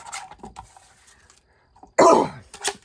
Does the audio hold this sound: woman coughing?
yes